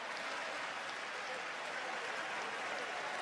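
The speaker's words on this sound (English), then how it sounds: "Crowd on its feet." Basketball arena crowd at a UCLA at Rutgers game roaring and applauding steadily, a dense, loud wash of cheering and clapping that holds without a break.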